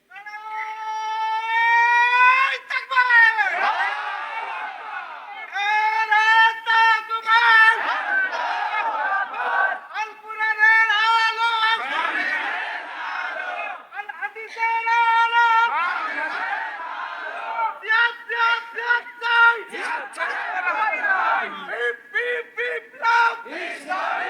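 A crowd at an Islamic sermon gathering shouts the takbir in loud, repeated call-and-response bursts, with a young man's chanted lead answered by many voices over about twenty seconds.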